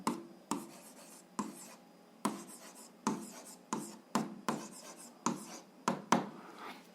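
A pen writes on paper up close during an algebra exercise, giving a series of soft scratching strokes in short bursts of about a dozen quick marks, quiet and with no voices.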